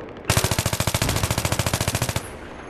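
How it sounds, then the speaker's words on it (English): An assault rifle in Battlefield 3 rips off one unbroken full-auto burst of about two dozen rapid, evenly spaced shots, loud and close, lasting just under two seconds. "this assault rifle tears up"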